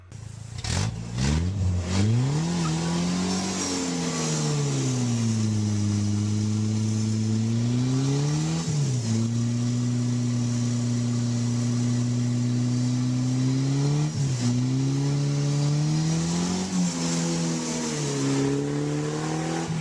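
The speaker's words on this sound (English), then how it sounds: "Here's a clip showing tires and friction." A car engine revs hard and loud, rising and falling in pitch through repeated acceleration and gear changes as the car drives on the road. Rough tire and road noise runs steadily underneath, with no talk.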